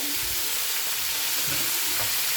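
Ground turmeric, red chilli, coriander and cumin powders are stirred in a hot frying pan with potatoes and long beans, a steady loud sizzle with soft scraping strokes of the spatula, no voices.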